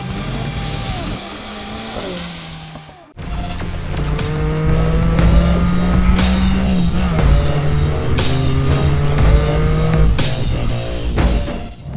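A Mercedes-AMG A45 S is driven hard: a loud, close engine note climbs and shifts through gears with a brief dip near the start, along with occasional sharp tire noise and no talking.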